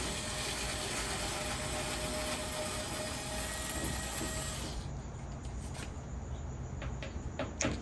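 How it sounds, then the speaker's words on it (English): Close mechanical whirring and ratcheting as Phillips head screws are backed out of a Kenmore Elite dryer door panel, easing into a quieter stretch with a few sharp clicks toward the end. "now we're gonna remove the 4 Phillips head screws that mount the door panel"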